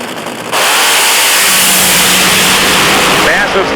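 Drag racing car engine running steadily and loudly at the starting line of a nighttime drag racing event, a sustained roar filling the whole stretch after a quieter opening moment.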